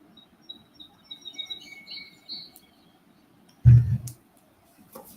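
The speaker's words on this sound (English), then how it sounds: "It's actually birds, nature sounds." Soft birds chirp and tweet in short phrases at low volume, with a brief louder thump partway through and quiet background ambience.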